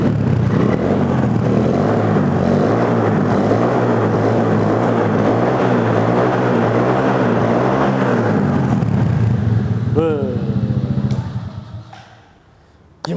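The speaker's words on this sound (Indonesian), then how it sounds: "Sekarang kita cobain gimana suaranya si mini chopper" A small mini chopper motorcycle engine runs steadily with a deep, throbbing idle for about ten seconds, then revs briefly and cuts off, leaving near silence.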